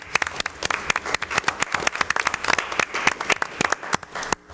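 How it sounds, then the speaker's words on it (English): A round of applause at a town board meeting in East Fishkill, a small room's worth of people clapping in distinct, sharp, closely spaced claps, loud and near, running continuously before tapering at the end. "Steve, a round of applause"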